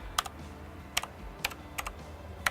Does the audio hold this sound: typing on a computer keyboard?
yes